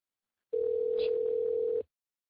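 A steady landline telephone dial tone hums alone for just over a second, then cuts off abruptly; no dialing beeps follow.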